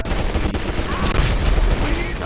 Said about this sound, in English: Here's a laser machine gun.